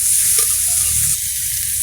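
Onion pieces hitting hot oil in a pan, a steady close sizzle with a brief stir partway through, no voices.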